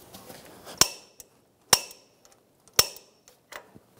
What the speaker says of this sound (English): Torque the upper control arm nut to 111 foot-pounds.